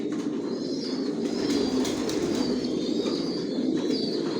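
Racer pigeons in a multi-storey breeding loft cooing continuously, a dense chorus of soft throaty coos close by with occasional chirps.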